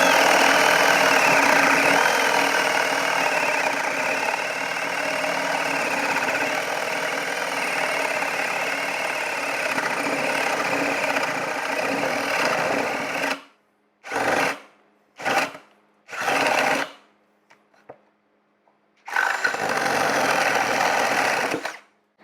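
Ryobi ONE+ HP 18V brushless cordless drill boring with a 1.5-inch bit, a steady motor whir under load for about thirteen seconds, then several short bursts of running separated by silence.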